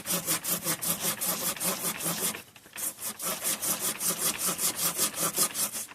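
A hand saw cuts through a branch of a 30-year-old apple tree during pruning, fast rhythmic rasping back-and-forth strokes, close and loud, with a brief pause midway before the strokes resume.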